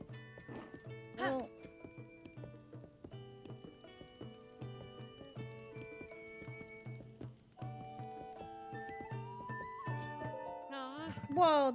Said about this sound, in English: that's a splendid horse.